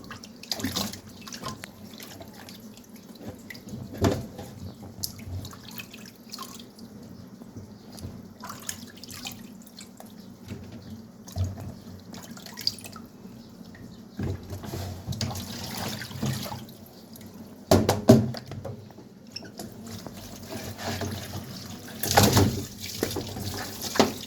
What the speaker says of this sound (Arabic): هنغسلها من محلول النقع اللي احنا نقعناه فيه، نحطها كده في المصفى